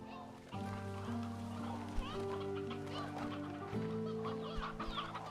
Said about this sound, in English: These hens are getting out of control.